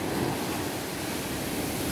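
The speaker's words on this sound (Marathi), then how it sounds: "आता बघा हे पाणी वरती आले ना, किती तीव्रतेने खाली जाईल बघा" Sea surf on a steep sloping beach at Ganpatipule, water surging up and then draining back hard toward a hollow, a steady close wash of broadband noise with some wind.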